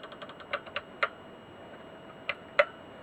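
Keys on a faulty ZX81 external computer keyboard are pressed one at a time, giving sharp, close clicks: a quick run of taps, then a few spaced single presses.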